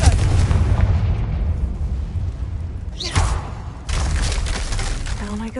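A Confringo spell blast in Hogwarts Legacy bursting with a sharp crack and rumbling explosion over a loud, continuous game soundscape, followed by crumbling debris.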